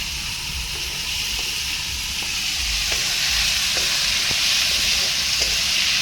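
Vegetables being tempered in hot oil for a Gujarati shaak, a continuous hissing sizzle with a low rumbling background and a few faint clinks, no speech.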